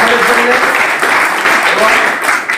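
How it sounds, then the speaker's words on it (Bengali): Young residential schoolchildren at a New Year gift gathering applaud together, producing a loud, continuous wash of clapping with a faint voice mixed in. "তোমরা একটু হাততালি দাও তোমাদের জন্য।"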